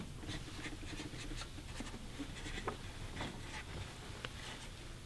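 Pen or pencil writing on paper on a quiet set, a soft steady scratching with faint rubbing strokes and small ticks, close but very quiet.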